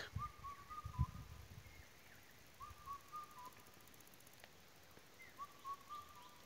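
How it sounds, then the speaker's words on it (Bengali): A bird calls in a sal forest with a clear, thin whistled phrase repeated three times at a distance, faint over a quiet outdoor background with a few low thumps at the start. "শুনুন আবারও সেই পাখির ডাক।"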